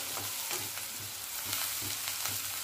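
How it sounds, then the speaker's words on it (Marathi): Crushed garlic and cumin seeds frying in hot oil over low heat, a close continuous sizzle with soft rhythmic scrapes of stirring. "हा कुटलेला लसूण टाकायचा बघा। थोडंसं लसूण परतून घेऊया आणि छान भाजून घेऊया।"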